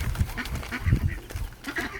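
Ducks, a mix bred from mallard, runner and Rouen stock, give several short honking quacks close by, in quick irregular bursts with nothing else heard.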